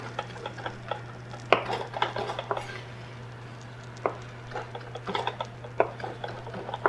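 Roasted vine-ripened tomatoes are roughly chopped with a knife on a board, giving scattered soft thuds and clicks at an uneven pace over a steady low hum, with no talking.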